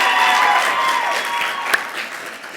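Audience applause at a genetic counseling award ceremony, a dense wash of clapping that stays loud and steady for a few seconds, with a sharp single clap standing out near the end.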